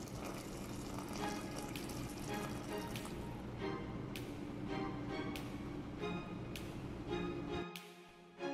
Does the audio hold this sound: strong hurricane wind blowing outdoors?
no